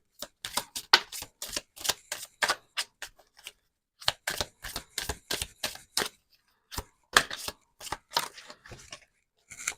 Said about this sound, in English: Didn't realise I've just chucked out half a deck.